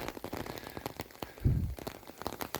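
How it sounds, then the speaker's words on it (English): Rain patters steadily on a hiking umbrella outdoors in a wilderness area, a dense close crackle of drops with a brief muffled thump midway. "that's just the rain hitting my umbrella."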